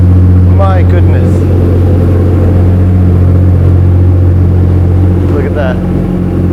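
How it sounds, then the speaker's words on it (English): A Pagani Huayra BC Roadster's engine starts up with a loud, deep rumble that settles into a strong steady drone, heard close behind the car with people talking over it. "It's an incredible presence just to stand behind the car when that engine starts."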